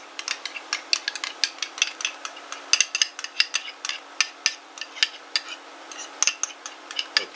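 Stromboli filling with fennel seed and tomato ketchup stirred briskly in a pot, a quick run of sharp clicks and scrapes from a spoon striking the sides, fairly steady and close with no voices.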